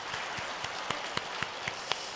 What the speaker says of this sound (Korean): 박수로 영광 올려드리겠습니다.